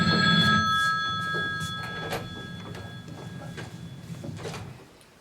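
A telephone rings loudly at first, its bright electronic tone sustained briefly before fading into faint room noise and soft background sounds during a stage play performance.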